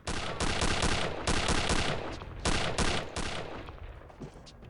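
An FG-42 paratrooper rifle in Return to Castle Wolfenstein fires loud, close bursts of rapid shots separated by short pauses, then the sound trails off into echo.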